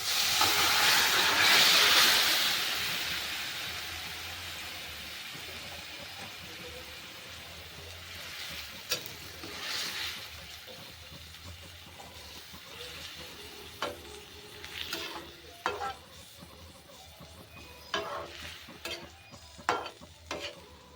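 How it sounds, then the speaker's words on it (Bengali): Fish tipped into a pan of hot spiced masala for a low-oil fish curry gives a loud hissing rush at first, then settles into a softer sizzle with scattered scraping and clinking from stirring. No voices are heard. "এবার আমি এর মধ্যে মাছটাকে ঢেলে দেবো"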